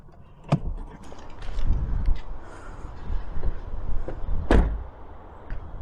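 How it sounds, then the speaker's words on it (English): A Citroën DS5 door handle is pulled and the door worked outdoors, giving a sharp click, a low rumble of movement, then a heavier thunk of the door, with wind noise in the background. "Door handle feels nice."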